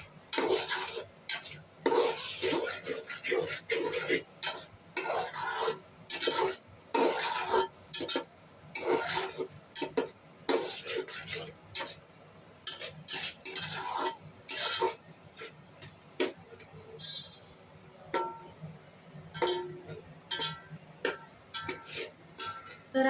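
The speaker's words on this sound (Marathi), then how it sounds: "कोळंबी चांगली मसाल्यामध्ये मिक्स करून घेऊया." Spatula stirring prawns into fried masala in a cooking pan, a long run of scraping and rubbing strokes against the metal with irregular clinks and ticks, close and busy with no talk.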